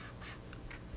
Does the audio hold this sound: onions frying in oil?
no